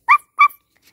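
A puppy gives two sharp, close yips in quick succession, then a faint trailing whimper, with no other sound.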